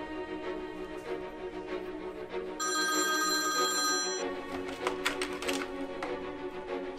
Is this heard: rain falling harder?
no